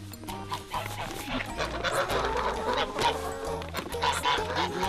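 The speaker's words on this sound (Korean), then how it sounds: "닭들이 150마리 동거합니다" About 150 free-ranging chickens in a plum orchard, clucking and squawking in a busy, continuous chorus close by, with some voices and other farm sounds mixed in.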